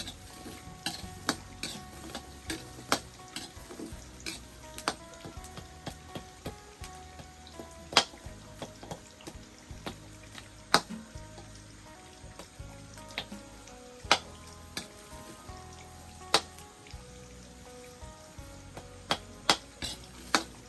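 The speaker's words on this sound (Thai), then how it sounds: "คั่วค่อยๆคั่วไป" Ingredients for a northern Thai larb with fish are slowly stir-roasted in a pan, a soft background sizzle broken by sharp intermittent clinks and scrapes of a utensil against the pan.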